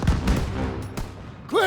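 Gunfire in a Call of Duty WWII battle, a few loud close shots and booms bunched at the start that thin out as the din fades, with a sharp rising effect at the end.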